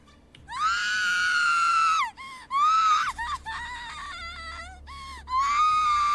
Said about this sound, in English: That was a good scream.